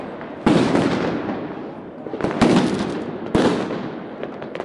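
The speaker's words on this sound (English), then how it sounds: "setting off fireworks. Everybody's got tons and tons of it." New Year's Eve fireworks go off in Prague, with several loud sharp bangs and crackling bursts over a constant roar of distant explosions.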